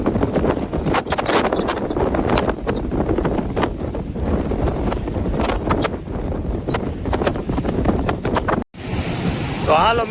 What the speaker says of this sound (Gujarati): અહીંયા કેવા મોજા આવે ને